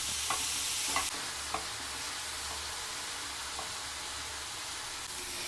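Mushrooms fry over a high flame in a quiet, even sizzle, with a few soft spatula taps early on and no voices.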